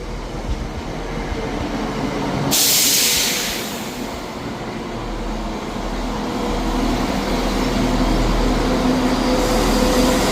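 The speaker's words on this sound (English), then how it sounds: "The train arriving at platform 2 is the 12:08 service to Dundee." A ScotRail Class 170 train arriving at platform 2 of Edinburgh Gateway station rumbles nearby with a steady low roar, a brief hiss of air partway through, and the sound builds toward the end.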